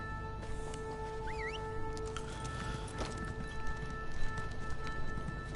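Rhythmic clip-clop of a horse's hooves at a running pace in the video game Elder Scrolls Online, steady and continuous, with a faint high squeak and a few chirpy tones over a constant background hum.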